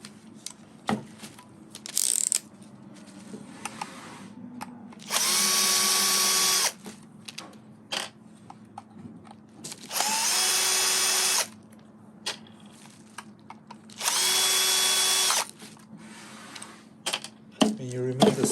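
A power drill backs out screws from an Infiniti Q50 dashboard in three sustained whirring bursts of a couple of seconds each, close and loud, with clicks and handling noises between them and someone talking throughout.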